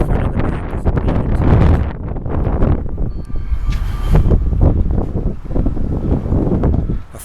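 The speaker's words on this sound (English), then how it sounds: "A front's coming through. It's very windy." Loud, rough wind from a passing weather front roars and buffets against the microphone, surging and easing without a break for the whole stretch.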